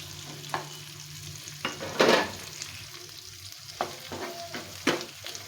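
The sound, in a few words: onion frying in a pan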